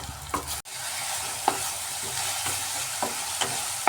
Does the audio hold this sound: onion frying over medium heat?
yes